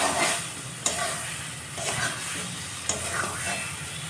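Spices fry in a pan for a potato and egg curry, a steady close sizzle broken by a couple of sharp clinks as a utensil stirs and scrapes the pan.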